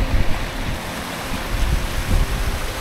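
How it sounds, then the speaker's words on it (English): A fast-flowing river in Derbyshire countryside near Bakewell and Buxton, in the rain, gives a loud continuous rushing roar with surging low swells, close to the microphone, and no voices. "A fast flowing river."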